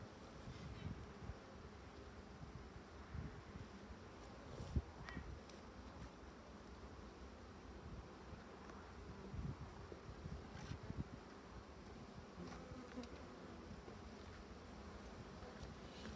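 Honeybees drone in a continuous, dense buzz around an open hive during a spring colony inspection, with faint rustling and light wind under the swarm, no voices.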